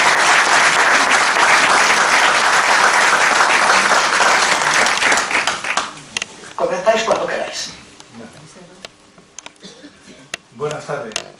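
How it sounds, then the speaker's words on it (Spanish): Conference audience applauding loudly and steadily for about six seconds, then fading into scattered claps and quiet room noise. "antes les damos nuestro aplauso"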